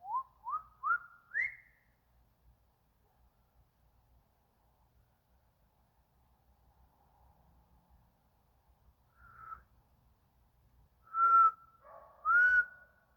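A person whistles alone in a quiet setting: a quick rising run of four notes, a long pause, then a few short clear phrases near the end.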